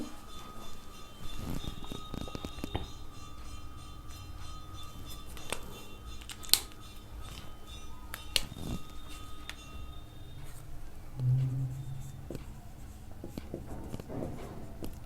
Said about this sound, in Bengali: প্রশ্নটা লিখে দিলে সুবিধা হবে, দিয়েই তারপরে সমাধানটা করছি।